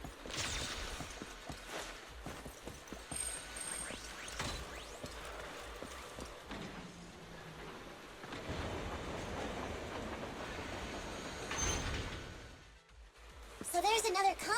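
A train rolls past in the video game Zenless Zone Zero, a steady rumbling and clattering passage that fills the scene, with an added whoosh and a brief chiming at the end.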